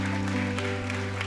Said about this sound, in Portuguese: Uma salva de palmas para esses irmãos.